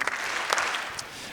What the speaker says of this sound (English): let's give these student athletes 2 claps